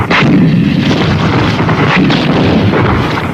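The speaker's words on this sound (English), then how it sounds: "more artillery becomes available to lay down a heavier barrage" An artillery barrage in a 1983 army training film about a Soviet encounter battle: dense, continuous booming and rumbling gunfire, loud and unbroken throughout, with no voices over it.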